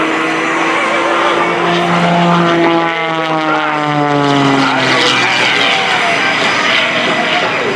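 A propeller aerobatic airplane in a flat spin at a military airshow gives a loud, continuous engine and propeller drone with pitch sweeping down and back as it rotates, steady throughout, with an announcer talking over it.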